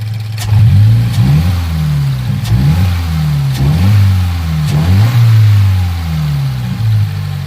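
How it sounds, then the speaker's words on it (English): A Subaru BRZ or Scion FR-S engine with a modified intake revs up repeatedly, about six quick blips in a row, each rising and falling back toward idle, loud and close. "see if I can give you a sound clip of the rev"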